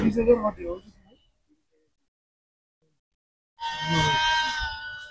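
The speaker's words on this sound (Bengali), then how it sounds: "আবার এদিকে আছে ছাগল, অসংখ্য ছাগল" Goats bleat in a busy livestock market at Postarpar, Chattogram, where goats and cattle are sold. Someone talks first, then a pause, then a loud, drawn-out bleat rings out close by.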